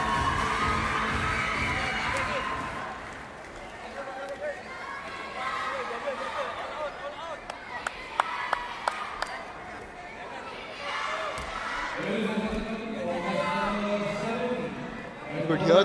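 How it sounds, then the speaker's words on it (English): Loud crowd cheering and shouting as the Indian women's sepaktakraw team enters court 2 at the ISTAF Sepaktakraw World Cup 2025, with sharp whistles or claps in the middle and a commentator talking over the arena noise. "hear the loud cheer because the Indian women's team has entered the court number 2 for their game"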